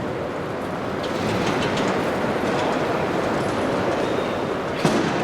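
A train stands at the platform of Vienna Westbahnhof, giving off a loud, steady broadband rumble and hiss with faint metallic clicks and one brief knock near the end.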